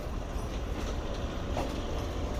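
Locomotive 9007 rumbles past on a Pakistan railway line, a dense continuous roar of engine and rolling wheels heard close and steady throughout.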